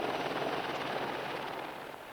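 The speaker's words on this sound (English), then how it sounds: "American Apache helicopters, now entering potentially hostile territory for the first time in this war." American Apache military helicopters passing overhead in 1999 Kosovo, a steady broadband rotor and engine roar that holds at moderate level and fades slightly toward the end, with no talk.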